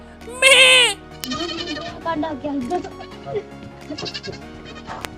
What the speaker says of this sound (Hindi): तब तक बकरियां चिल्लाने लगती है